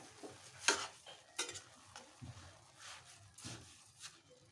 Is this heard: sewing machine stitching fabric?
no